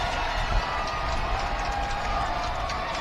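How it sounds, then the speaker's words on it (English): A high school football crowd at Lone Peak vs. American Fork roars in a broad, steady wash of cheering from the stands, loud and sustained with no single voice standing out. "And so the crowd gets loud."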